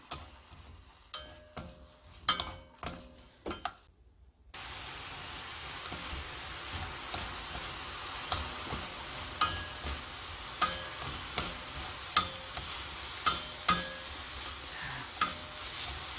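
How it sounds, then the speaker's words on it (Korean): Anchovies stir-fried quickly over high heat in a pan: a steady, soft sizzle with regular light scraping and tapping of the spatula, preceded by a few separate clicks and clanks. "그때 불을 이제 세게 하셔서 좀 빨리 볶아내야 돼요"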